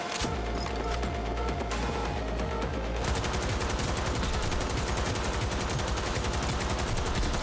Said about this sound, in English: My light machine gun.